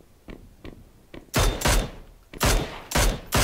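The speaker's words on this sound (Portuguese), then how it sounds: "Tinha um cara em cima da montanha dando tiro nele também" Gunfire in the battle royale game PUBG: three faint distant shots, then several loud close bursts in uneven rhythm.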